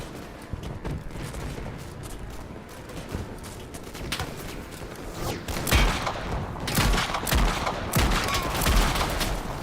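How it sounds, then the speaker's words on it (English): Gunfire crackles through a WWI battle in the video game Over The Top: WWI, with scattered distant shots early on and then louder, closer bursts and heavy thumps. "Gosh dang pistols in this game."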